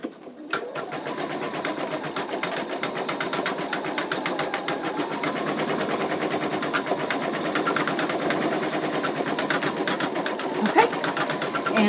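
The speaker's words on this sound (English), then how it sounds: "it is stitching okay" An embroidery machine stitches out an in-the-hoop wallet, giving a steady, rapid mechanical chatter that runs continuously and fairly loud at close range.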